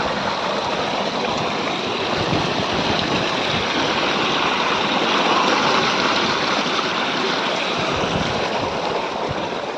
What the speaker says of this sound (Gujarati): મોટર ચાલુ કરી પાણી આવ્યું